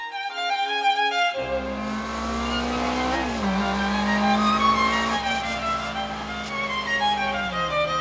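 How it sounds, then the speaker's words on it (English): A 2004 Ferrari 360 Spider engine catches and settles into a loud, steady throaty idle close by, its pitch dipping and rising slightly as it runs, with no talk over it. "Today I present to you Jason's 2004 Ferrari 360 Spider."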